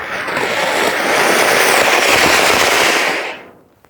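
An anar fountain firework burns during Diwali, a loud steady hissing, crackling roar that holds for about three seconds and then dies away quickly.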